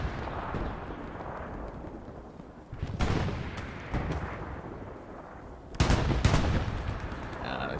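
Artillery guns boom in a large-scale 49 versus 49 online battle game scrim, with a few heavy blasts standing out above a dense, continuous rumble of distant gunfire and combat noise.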